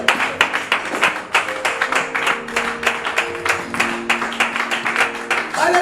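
A church congregation clapping in praise of the Lord at a French-language service, with rhythmic, fairly loud applause over sustained music tones and some background voices.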